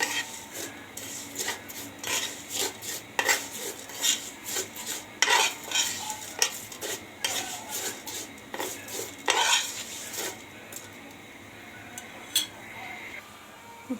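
A spoon stirs vermicelli in a pot with ghee and oil, giving repeated scraping and clinking strokes in bursts over a faint sizzle, with no talk.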